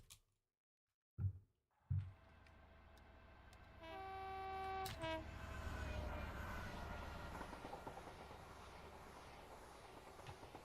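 A train in the Train Sim Classic simulator on a shunting run: a couple of sharp clanks, then a loud two-tone horn blast followed by steady rolling engine and wheel rumble that continues to the end.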